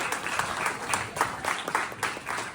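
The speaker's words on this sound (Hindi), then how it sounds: "इनको सभी तालियां बजाकर" A temple gathering applauding a couple, steady clapping from a crowd heard at moderate distance, with slightly uneven bursts of claps throughout.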